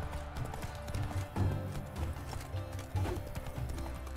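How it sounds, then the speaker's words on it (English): Horse hooves pound the ground in The Witcher 3, a rapid, steady clip-clop of galloping that stays loud and close across the whole stretch, with occasional heavier thuds and no voices. "Hoofs pound the ground."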